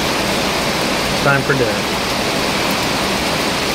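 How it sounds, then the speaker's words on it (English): Rain keeps falling outdoors at a Bahamas resort water park, a constant broad hiss running throughout while someone speaks briefly near the middle. "Pretty good rain out here."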